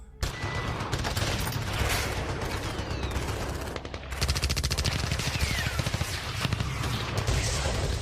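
Dense automatic gunfire in an audio drama, a loud continuous rattle of rapid shots that briefly breaks off midway and then resumes just as heavily.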